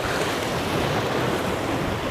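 Sea waves at the seaside make a steady, continuous wash of surf, mixed with wind buffeting the microphone, loud and unbroken throughout with no voices.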